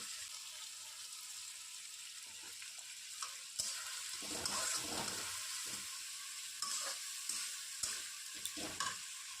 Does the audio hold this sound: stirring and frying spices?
yes